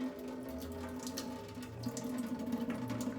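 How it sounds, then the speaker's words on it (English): Water pouring and splashing continuously as it is dumped out of an orchid pot, close by and moderately loud, with a steady gushing flow that grows a little stronger toward the end. "Dump all the water."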